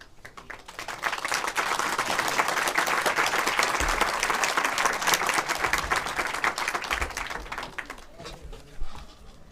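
An audience in a public hearing room on school COVID-19 vaccine requirements breaks into sustained applause, a loud dense clatter that swells in and stays steady for several seconds before thinning out, with a brief bump near the end.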